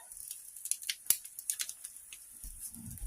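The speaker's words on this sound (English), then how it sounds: "They make it easy to cut your meat, easy to clean." Close, quiet snips from dollar-store kitchen food scissors cutting meat. The crisp clicks are irregular, with one sharper snap, and a low rumble comes in near the end.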